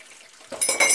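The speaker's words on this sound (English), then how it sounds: "I wash them out one by one because I can't see if there's still detergent on." Dishes rinsed under running tap water in a sink, a brief quiet moment giving way to a burst of splashing water with light clinks of utensils, close by.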